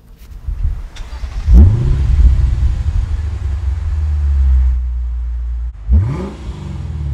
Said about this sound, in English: And then as far as that exhaust note